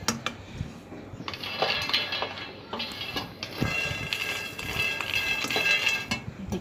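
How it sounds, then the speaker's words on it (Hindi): Peanuts dry-roasting in a pan, heard as a clatter of nuts and utensil scraping against metal with irregular clinks and taps, moderately close, with no talk. "अब सबसे पहले हम मूंगफली के दाने को ड्राई रोस्ट करेंगे, एक हल्का सा भूनना है इनको"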